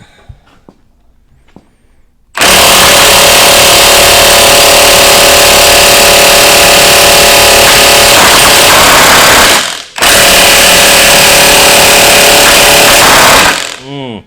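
A 1/2 inch battery impact wrench hammering hard on a nut, loud continuous rattling for about seven seconds, a brief break, then another long burst, starting after a quiet lead-in.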